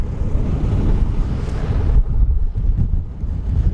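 Steady roaring wind buffeting the microphone, loud and continuous, with a rushing, surf-like wash underneath.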